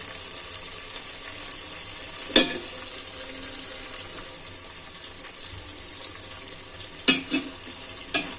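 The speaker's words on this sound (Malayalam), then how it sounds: "നന്നായിട്ടൊന്ന് ഇളക്കി കൊടുക്കുക." Ground chili paste fries with onions and tomatoes for Ambur chicken biryani, a steady close sizzle with occasional sharp spatula scrapes and knocks against the pan, strongest near the start and end, with no talk.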